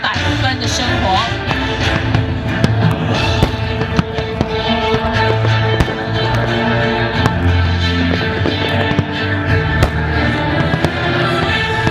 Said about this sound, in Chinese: 在这40分钟总长度的我们烟火表演当中呢